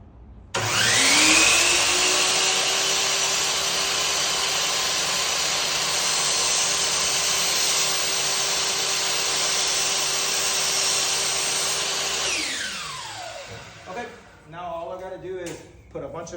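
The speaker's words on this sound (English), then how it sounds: "There's my miter saw. And here's me going slow." A miter saw cuts slowly through white oak, its motor spinning up with a sharp whine and holding a steady, loud cutting roar for about eleven seconds before winding down, followed by brief clatter and movement noises.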